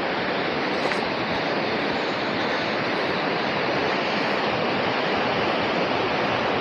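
Boka waterfall, an 85 m fall pouring from a rock face, heard as a loud, dense, unbroken rushing roar with no other sounds.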